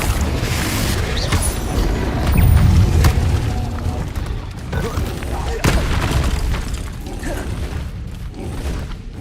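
Confringo fire spell blasts in the Hogwarts Legacy video game, a series of heavy booming explosions with sharp pops and rumbling debris, loud and close, broken by short transient cracks over a dense low roar.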